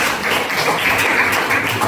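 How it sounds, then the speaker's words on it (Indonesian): A classroom of students gives a close, loud burst of steady clapping for a classmate, dense and continuous throughout with no talk over it. "Tepuk tangan untuk Guli"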